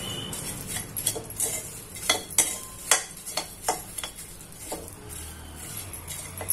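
Makhana (fox nuts) stirred and roasting in ghee in a pot, with a steady run of clinking utensil scrapes and light taps against the pan, evenly spaced and close.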